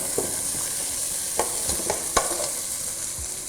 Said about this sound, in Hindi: अब हमने जो मसाला आपके सामने सौते किया था उसके अंदर हमने 20 से 25 मिनट भीगे हुए बासमती राइस हमने ऐड कर दिए हैं